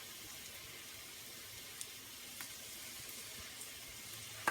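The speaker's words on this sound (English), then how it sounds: "We're going to saute this down just a little bit" Beef filling for enchiladas sautés in a pan, giving a faint, steady sizzle and hiss with a few tiny pops, heard on its own without talking.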